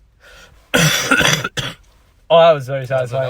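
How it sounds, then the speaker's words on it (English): A person coughs once in a harsh, raspy burst near the microphone, followed by speech. "what my cough sounds like?"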